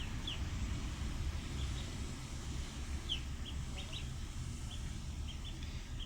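Baby ducklings give faint, sparse high peeps scattered across a steady low background rumble, several short chirps coming at irregular intervals.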